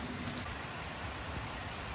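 Steady heavy rain pours down outdoors on a horse property, a dense continuous hiss of drops hitting surfaces with no voices.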